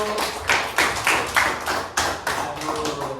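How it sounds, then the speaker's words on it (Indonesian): Several bursts of clapping from a small class group, short rhythmic rounds of hand claps repeating across a few seconds, fairly close. "tepuk tangan dulu."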